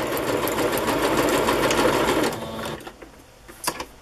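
A sewing machine runs steadily while stitching a zigzag on a handkerchief cover, a fast even mechanical whir that stops after about two seconds, leaving faint handling clicks.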